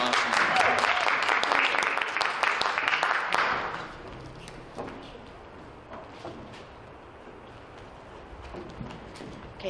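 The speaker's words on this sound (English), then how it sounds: "Give her a nice round of applause" Loud applause from a crowd fills the first few seconds, dense clapping that fades away, leaving quiet room noise and faint murmurs.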